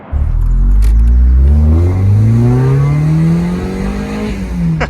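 A Mazda MX-5 roadster's engine revs hard through its twin-tailpipe exhaust, pitch climbing steadily in a loud, close, continuous pull before easing off near the end.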